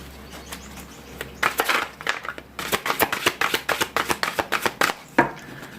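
Tarot cards shuffled and cut by hand: a rapid run of crisp riffling snaps and papery slaps, close and fairly loud, with brief pauses between bursts.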